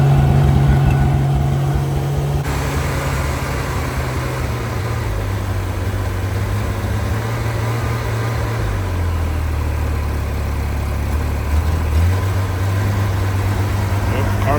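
A 1994 Honda Goldwing 1500 Aspencade motorcycle engine idles steadily after a cold start, a smooth low hum whose pitch dips and settles as the revs drop, running continuously and close by.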